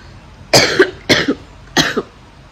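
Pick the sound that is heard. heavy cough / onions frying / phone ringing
heavy cough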